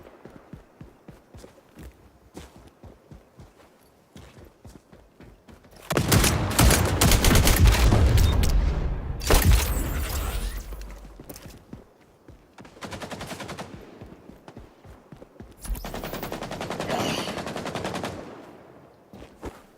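Rifle gunfire from an SVD designated marksman rifle in the shooter game XDefiant, heard as loud bursts of rapid shots in the middle and near the end, with quieter clicks and footsteps between them.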